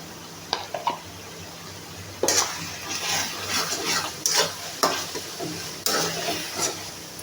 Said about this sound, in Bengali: এখন মশলাটাকে আমি খুব ভালোভাবে কষিয়ে নিব।